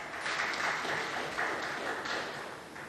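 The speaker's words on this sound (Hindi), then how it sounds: "सब तालियाँ बजाओ।" A studio audience applauds on a Pakistani Ramadan talk show, a faint, steady wash of clapping lasting a few seconds with no voices.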